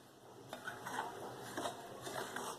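Soft, close scraping and clinking as malida dough with salt is stirred and mixed in a dish, with irregular strokes repeating over a couple of seconds at low volume.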